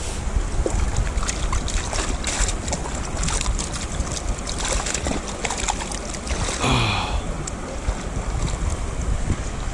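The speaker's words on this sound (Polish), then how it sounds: "Strumyczek. Opłuczemy sobie garnuszek i zrobimy sobie w nim herbatkę." A mountain stream rushes steadily and loudly as a pot is rinsed in it, the broad watery roar continuous throughout with a brief splashing swell near the end, no talk.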